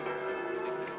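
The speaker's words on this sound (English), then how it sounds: "Bid farewell to Firenze, Florence, with the bells tolling for us" Church bells ring out over Florence, a sustained, resonant tone with a steady hum and overlapping overtones, filling the air without pause.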